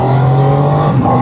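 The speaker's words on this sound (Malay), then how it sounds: "Alright, kita rasa enjin 3 silinder." A Triumph three-cylinder motorcycle engine revving, loud and close, with a steady harmonic drone whose pitch holds and then shifts slightly near the end.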